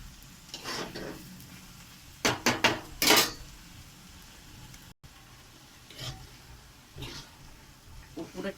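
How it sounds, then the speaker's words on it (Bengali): Banana flower being stirred with meat in a pan, with several sharp metallic scrapes and clanks of a utensil against the pan over a soft sizzle, spaced irregularly. "এরপরে মোচাটা দিয়ে দেওয়া হলো, একটু নেড়ে চেড়ে"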